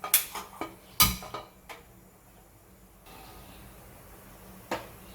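A frying pan is picked up and set down on a kitchen stovetop, giving a quick series of metallic clinks and knocks with one sharp clank. After that comes quiet room tone and one last tap.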